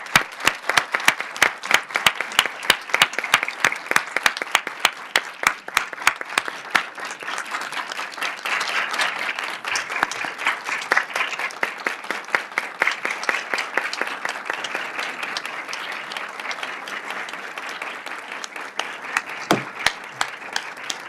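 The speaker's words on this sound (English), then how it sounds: "I ask everyone for a warm round of applause to Professor Bogdandy" A warm round of applause for Professor Bogdandy at the close of a legal dialogue event, many hands clapping in a crisp, lively patter that stays full and steady for a long stretch before thinning out.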